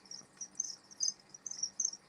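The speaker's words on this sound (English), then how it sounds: "These are crickets here, breeding some crickets." Crickets chirp in a breeding container inside a reptile room, a steady run of bright, pulsing trills close by at moderate volume with no voices.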